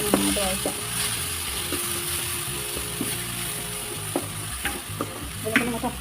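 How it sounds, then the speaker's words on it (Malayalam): Crushed garlic, ginger and green chilli sautéed for chicken biryani sizzle steadily in the pan, broken by repeated metallic scrapes and clicks of a stirring spoon, louder bursts toward the end, without speech. "ഇതിൽ നന്നായിട്ട് വഴറ്റാം"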